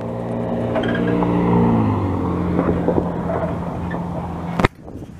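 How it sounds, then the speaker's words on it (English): A Mazda Miata drives past in a Montreal alley, its engine a harmonic drone that drops in pitch as it goes by, ending in a sudden sharp thump and near silence. "This is a Miata."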